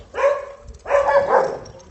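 Two dog barks, the second longer and drawn out, close by with a short pause between them and no talking.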